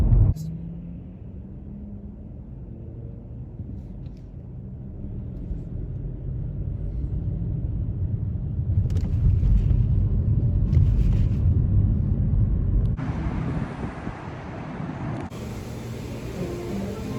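Car interior on the road pulling into DFW Airport, a steady low engine and road rumble that swells midway, with brief higher noise bursts near the end.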